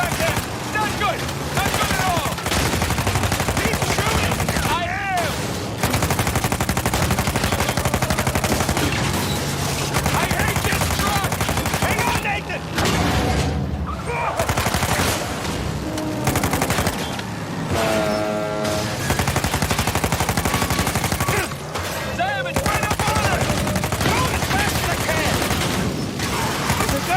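Gunfire in a video game shootout from a Star Wars Outlaws–style action game: dense, continuous rapid-fire blasts and bursts with booms, loud throughout, with shouting voices over the action.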